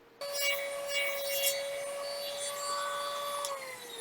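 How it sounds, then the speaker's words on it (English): Dremel rotary tool starts abruptly and whines at a steady high pitch while shaping a toenail scimitar prop, grinding for about three seconds before winding down in pitch. "we're going to get down and dirty with the Dremel now and see how we can make it look"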